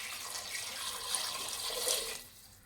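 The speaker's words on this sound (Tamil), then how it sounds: "ஒரு சொம்பு தண்ணி ஊற்றிருக்கீங்களா?" Water pours steadily into a pressure cooker holding goat trotters, a close, hissing splash that lasts about two seconds and then stops abruptly.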